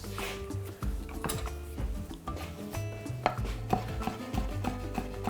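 Fresh thyme being finely chopped with a knife on a board, a steady run of close, crisp cuts in quick uneven rhythm, with light clinks of kitchen utensils between strokes and no talking.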